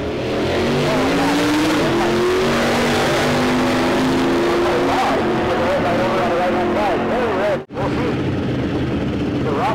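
A car launches hard in an amateur duct-tape drag race, its engine roaring loud and close, rising in pitch through the revs, then cutting briefly before a loud engine note returns.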